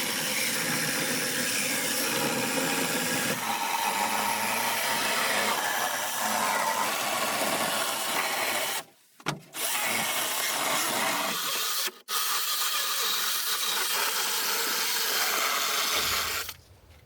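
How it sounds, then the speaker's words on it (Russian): A battery-powered saw cuts through wood outdoors with a steady, loud rasping buzz that stops briefly twice before running on and finally cutting out. "Все отпилил."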